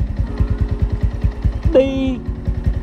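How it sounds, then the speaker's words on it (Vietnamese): A Yamaha Exciter 155 VVA motorcycle engine idles close by with a steady, even low chugging pulse, while someone talks over it. "Rồi, thì đây là tiếng máy nè anh em."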